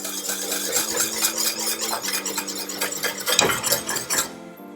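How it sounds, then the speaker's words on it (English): A whisk scrapes and rattles steadily against a metal pan while mixing a ham glaze on the stove, a continuous close clatter of metal on metal with no talking. "we're just going to continue to whisk this a bit"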